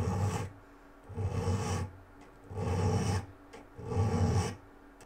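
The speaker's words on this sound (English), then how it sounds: "Okay, so now I'm going to start filing those in." A metal file rasps across the jaws of a Starrett 120 caliper in four steady strokes, each about a second long with short pauses between, close and moderately loud with no talking.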